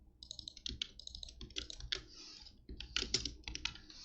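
Code is typed on a computer keyboard for a Java programming solution, quick close bursts of key clicks in uneven runs with short pauses between, no speech.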